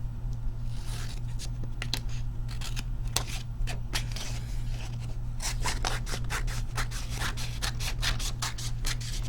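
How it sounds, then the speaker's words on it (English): Scissors snipping through paper for a handmade Christmas card, with irregular scattered cuts early on and then a quick run of rapid, close, crisp snips over a steady low hum. "Let me just cut this paper from here."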